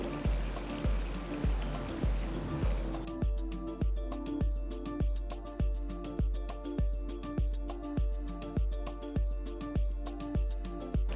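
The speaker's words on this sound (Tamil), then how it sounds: "தண்ணி ஊற்றி நல்லா கழுவிட்டு" Raw rice, horse gram, urad dal and fenugreek being washed in water, with steady rhythmic swishing and sloshing repeating about once a second, close and fairly loud, no talking.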